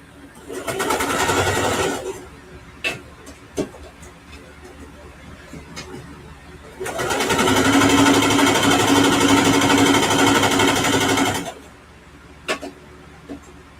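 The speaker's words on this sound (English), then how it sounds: "do some back stitches because now you're creating the bag and you want your bag to hold up" A home sewing machine back stitches a quilted backpack in two close, loud runs, a short burst followed by a longer steady whir, with quiet clicks and handling sounds between them.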